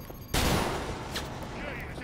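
Gunfire in the video game Cyberpunk 2077 erupts as one sudden loud blast after a quiet moment, then trails into a long decaying rumble with faint higher chirps.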